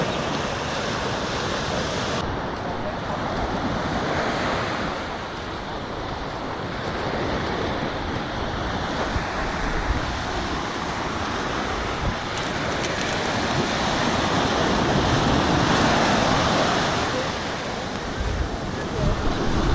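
Waves breaking on Seaburn Beach at high tide, a continuous roaring wash of surf mixed with gusting wind noise on the microphone, steady and full throughout.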